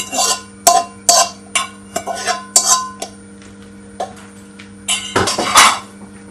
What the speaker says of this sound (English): Gonna give it a stir.